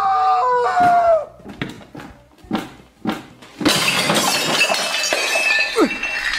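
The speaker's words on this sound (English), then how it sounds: "Jeffy, why'd you break the glass?" Glass shatters loudly after a bouncing ball strikes it indoors, preceded by a few sharp thuds of the ball hitting the stairs, with the crashing, tinkling debris ringing on for several seconds.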